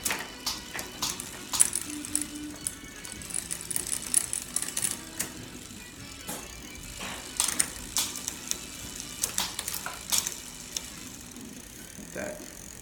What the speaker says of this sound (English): Now, you just got to run through the gears, maybe adjust the barrel a little bit.